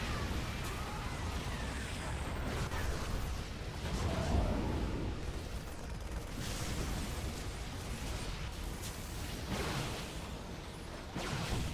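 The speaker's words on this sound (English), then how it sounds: "Orbitals all getting picked off as the tank's firing up" Siege tanks fire on orbital command buildings in a StarCraft 2v2 match, a steady run of muffled explosive booms and bursts through the whole stretch over a dense battle din.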